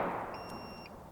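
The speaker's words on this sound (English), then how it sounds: "Sorry about the beeping." Faint, high electronic beeps chirp twice from a UPS low battery warning under a steady background hum, quiet and thin.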